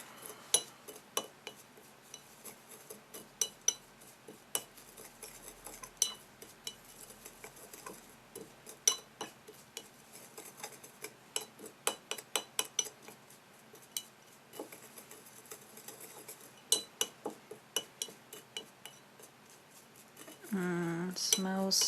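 Incense herbs mixed in a heavy granite bowl, a run of sharp, irregular clicks and taps from close by at a quiet level, with a louder rustle near the end.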